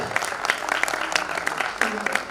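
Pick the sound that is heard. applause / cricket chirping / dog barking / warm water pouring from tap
applause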